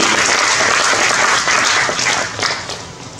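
An audience applauds for CRDB Bank, a loud sustained burst of many hands clapping that thins out and fades toward the end.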